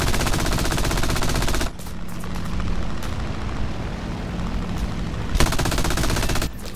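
Aircraft machine guns fire in War Thunder, the Soviet I-15 biplane in air realistic battle, as loud dense bursts that stop briefly then resume, over a steady engine drone.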